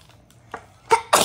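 A single sharp sneeze bursts out near the end, following a softer breathy sound, close and fairly loud in an otherwise quiet indoor room.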